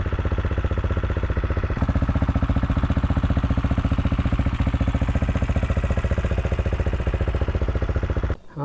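A BMW GS Trophy motorcycle engine idles close by with a steady, even thumping rhythm that continues throughout before cutting off abruptly at the very end.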